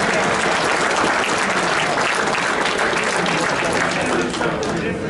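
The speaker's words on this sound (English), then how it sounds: "Let's give them all a great round of applause." Audience applause at a racing awards banquet honouring track champions and rookies, loud sustained clapping from a large room, continuous and dense across the whole stretch.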